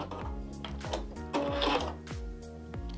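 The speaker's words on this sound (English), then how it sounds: "and I want to cut the thread." A sewing machine stitching to the end of a seam and cutting the thread, a steady rhythmic mechanical thumping of the needle at a quick even pace, close and alone.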